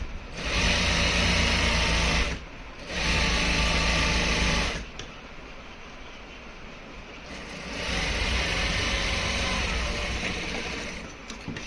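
A sewing machine stitching along a ladies' pant pocket, running in long fast bursts with short pauses between them, a close, steady mechanical whir and rattle.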